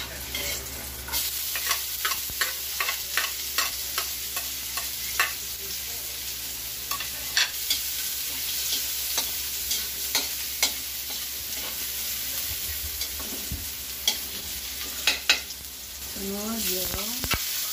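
Garlic sautéing in a pan for squid in coconut milk, with a continuous sizzle punctuated by regular spatula taps and scrapes against the pan, close and fairly loud, plus brief voices near the end.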